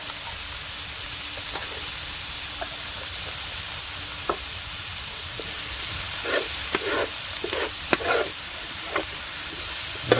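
Curried chicken with ginger sautés in a pan over a bushcraft campfire, a soft continuous sizzle and hiss with scattered light crackles and pops growing busier toward the end.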